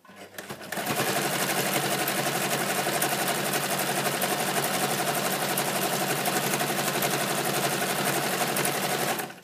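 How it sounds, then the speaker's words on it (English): An electric sewing machine stitches a patch onto a bag, starting after a brief pause and then running in a fast, steady, even whir of needle strokes until it stops at the end. "stop, lift the presser foot and sew down the last side."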